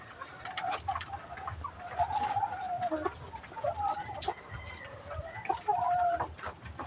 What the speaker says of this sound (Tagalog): Ito na po mga kaibigan yung aking maliit na poultry.